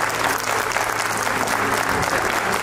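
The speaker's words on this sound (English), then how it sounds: "Let's have a huge round of applause for Kaushiki Das." Dense, steady audience applause fills a school annual day hall for a student award winner, close and continuous throughout.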